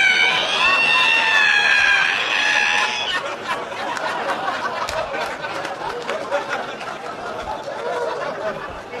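A voice imitates the creak of an ironing board being opened, a long strained squeal for about three seconds, followed by crowd laughter and chatter in a live stand-up comedy setting.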